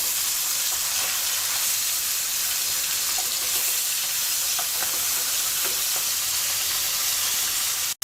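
Small sarpunti fish frying in hot oil in a pan, a steady broadband sizzle throughout with a few faint scrapes as the pieces are turned, no voices.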